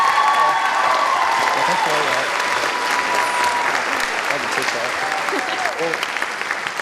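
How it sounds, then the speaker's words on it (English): A school audience claps loudly for a senior being honored, with a dense, sustained roar of hand claps and some faint cheering that thins toward the end, while voices and a few tonal sounds drift underneath. "another round of applause for Mary Ann."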